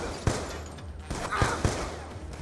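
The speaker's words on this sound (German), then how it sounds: "Ich habe sogar ganz weit auf den geschossen." Gunfire in the shooter game Call of Duty: Black Ops 2 comes as a few sharp, separate shots spaced over a couple of seconds, moderately loud against a quieter game background.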